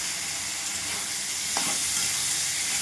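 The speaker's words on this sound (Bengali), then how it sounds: "সব একসাথে দিয়ে কষে নেবো।" Potatoes, chopped tomatoes and Kashmiri chili paste sauté in hot oil with a constant close sizzle. One brief stirring scrape breaks through midway, and there is no talk.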